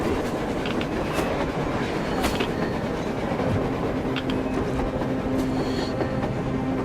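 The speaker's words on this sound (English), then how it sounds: "A train! A damn train on the surface!" A train in the video game Metro Exodus rumbles steadily nearby with a rhythmic clatter of wheels on rails, occasional metallic clanks standing out over the continuous noise.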